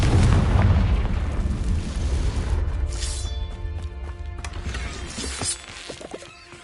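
A Confringo blasting spell detonates in a Harry Potter video game: a loud, deep boom that rolls into a decaying rumble, with scattered crackles and debris-like pops trailing off over several seconds.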